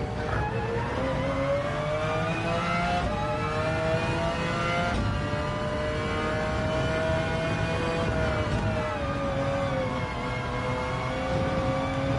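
McLaren F1 GTR race car in Gran Turismo 7 at Le Mans, its engine droning loud and continuous with rising and falling revs through gear changes, alone with no talk.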